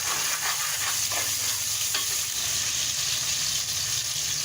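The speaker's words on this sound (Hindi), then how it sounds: "इसमें 1 प्याज डलेगी बारीक चॉप की हुई" Finely chopped onion frying in hot oil, a steady dense sizzle with faint stirring scrapes, close and continuous without any talk.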